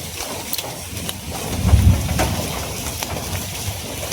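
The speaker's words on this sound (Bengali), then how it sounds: "বৃষ্টি আবার শুরু হয়েছে।" Rain falls in a dense, steady hiss, with a low rumble swelling briefly near the middle; no voices are heard.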